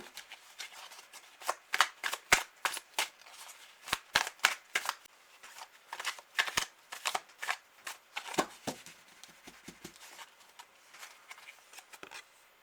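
Tarot cards being shuffled during a reading, a long run of crisp riffling bursts in uneven clusters, fairly quiet and close, with no voices over them.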